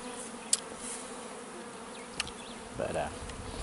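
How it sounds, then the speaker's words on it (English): Bees kept by a beekeeper on Blue Mountain, Jamaica, buzzing at low level against an outdoor background, with a few brief clicks and a short louder burst near the end. "He has a whole bunch of bees."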